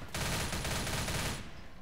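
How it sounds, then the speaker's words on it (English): Rapid automatic gunfire from the Left 4 Dead video game rattles in one dense burst of about a second and a quarter, loud and close, then cuts off into a fading tail. "I shot you! Die!"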